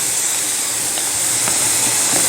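Vegetables such as capsicum, cabbage and tomato hit a hot pan with green chilli, ginger and garlic, giving a steady loud broadband sizzle and hiss with a few faint stirring clicks, no voices.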